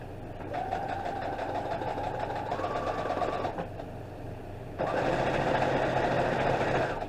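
A sewing machine stitches steadily during beginner free-motion quilting on a panel. Its close, continuous whirring motor stops briefly, then resumes louder and faster.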